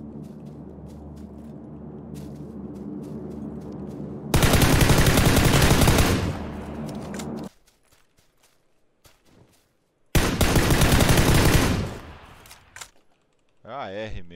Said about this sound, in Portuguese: AR, compensador, barulhento mesmo